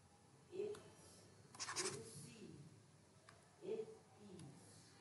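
Factors for a fifth-grade maths lesson being written by hand on paper or a board, with short scratchy strokes under a quiet voice speaking between them.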